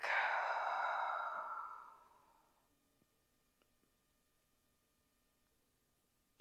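A single deep, breathy exhale during a gentle seated stretching session is heard close and clear, fading out after about two seconds into near silence with a few faint clicks.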